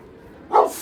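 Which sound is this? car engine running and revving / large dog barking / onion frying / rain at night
large dog barking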